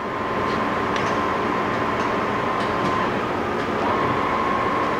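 A 1974 Dean Smith Grace 21 x 80 engine lathe runs at low spindle speed, giving a steady, continuous mechanical drone with a faint tonal hum and occasional light ticks, close and without talk.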